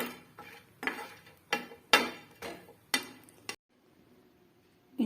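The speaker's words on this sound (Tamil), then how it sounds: "இதை நம்ம நல்லா லைட்டாக அப்படியே வதக்கிக்கணும்" Cashews and cinnamon being sautéed in a pan for a restaurant-style chicken gravy: a run of close, sharp stirring scrapes and clinks roughly every half second, then a quiet stretch with faint low sizzling.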